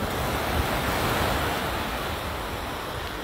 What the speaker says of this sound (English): And here we are down on the beach this morning.